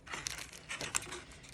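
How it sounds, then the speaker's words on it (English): A fabric package from a craft store is cut open with scissors, giving a quick, faint run of plastic crinkling and snipping, close by and with no talk. "Grab my scissors, we'll get that open."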